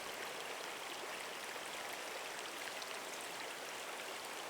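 Waterfalls on a stream beside a campsite along the Whispering Pines Trail, a steady soft rushing wash of water with no voices, quiet and continuous.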